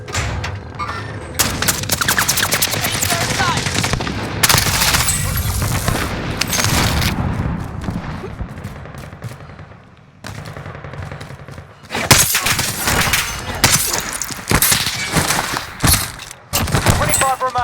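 Video game firefight with dense automatic gunfire, bursts and booms filling nearly the whole stretch, loud and continuous with a brief lull midway; voices talk over the shooting.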